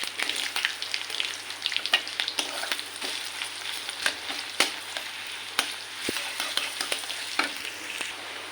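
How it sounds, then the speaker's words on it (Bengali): Onions frying in hot oil for a thin rui fish curry with pointed gourd and potato, a steady close sizzle broken by sharp crackles and spatters throughout, no voices. "আমি গরম তেলে পেঁয়াজগুলো দিয়ে দেবো"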